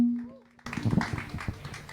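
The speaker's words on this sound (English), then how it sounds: "Let's give them a round of applause." A moment of quiet with a faint tone gives way to a sudden burst of audience clapping welcoming two female DJs at a Melbourne event, dense and close, with voices mixed into the noise.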